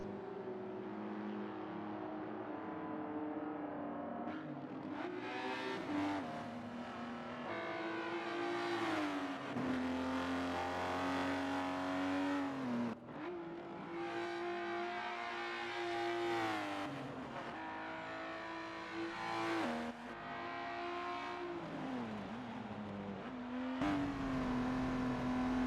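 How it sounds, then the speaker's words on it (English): Lotus race cars in a Gran Turismo race at Maple Valley: engines rev high and loud in repeated climbing and falling sweeps through gear changes, continuous and close across the whole stretch, with no talking. "just admiring the wonderful sound of these Lotuses"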